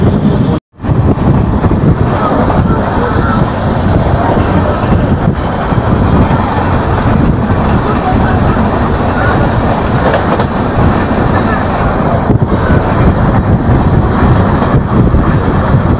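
A Janashatabdi Express train leaving Kankavli in the Konkan region runs on the rails with a loud, constant rumble and wind rush, steady clatter and a brief dropout near the start.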